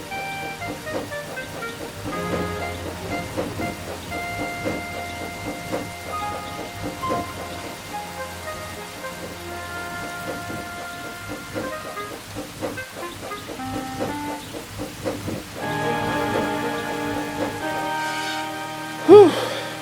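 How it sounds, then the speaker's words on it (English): Steady rain falls through a storm on a fell summit, a soft continuous wash with low rumbles suggesting distant thunder, moderately quiet, with a brief louder burst near the end. "The storm looks like it's getting worse."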